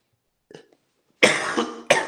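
A teacher with a cough during a lesson: a faint throat sound first, then two loud, close, harsh coughs in quick succession, heard alone without speech.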